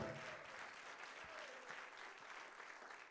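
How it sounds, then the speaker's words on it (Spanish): Congregation applause at a church service, a steady wash of many hands clapping at moderate level throughout, with no single claps standing out and faint crowd murmur beneath. "Denle ese aplauso al Señor."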